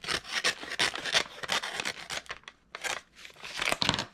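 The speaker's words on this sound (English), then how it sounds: "I'm going to take my finger blade and I'm just going to cut through" Finger blade craft knife slicing through paper, a run of short, close scratchy rasping strokes with brief pauses between cuts and no voices.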